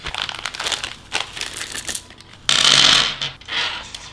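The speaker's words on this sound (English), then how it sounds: "So we'll carefully open this up and take a look." Packaging for Wizard Advanced skateboard frames is handled and opened, with steady crinkling and rustling of plastic wrap, then a louder, dense burst of crackling as the compartment is pulled open, close to the microphone.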